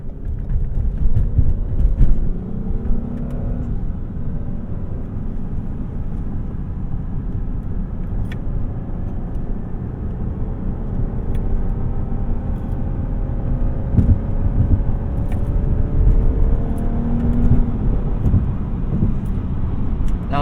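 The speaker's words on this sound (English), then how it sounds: "I've been kind of driving this around, and I've been able to get a good perspective on how this car drives" 2015 Lexus GS350 F Sport heard from inside while driving near highway speed on an on-ramp, a loud continuous low road and engine rumble with rising tones and faint wind noise, steady throughout.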